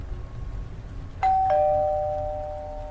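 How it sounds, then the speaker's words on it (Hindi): An apartment doorbell gives a clear two-tone ding-dong at close range, the second tone ringing on and slowly dying away over a low background hum. "मेरे दरवाजे की घंटी फिर से बजी"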